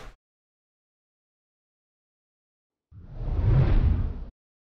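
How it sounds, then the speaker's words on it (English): A long whoosh sound effect used in video editing rises out of silence, swells into a broad, airy rush lasting about a second and a half, then cuts off abruptly, standing alone with no talk. "The long whoosh and see what that sounds like."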